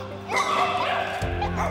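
Abandoned feral dogs bark and yip toward people in the wild, a sustained burst of overlapping barks and whimpers under a narrator's voice and a low background hum.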